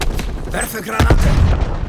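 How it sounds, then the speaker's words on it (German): Grenade blast in Call of Duty Black Ops Cold War multiplayer, a brief booming explosion mixed with gunfire, with a voice speaking over it. "Werfe Granate!"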